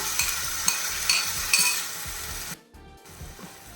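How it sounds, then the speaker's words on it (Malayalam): Egg roast masala sautés in a pan with a bright, continuous sizzle and rhythmic scraping stirs, dropping briefly quieter near the end. "ഇതിൻ്റെ പച്ചമണം മാറുന്ന വരെ ഒന്ന് വഴറ്റി"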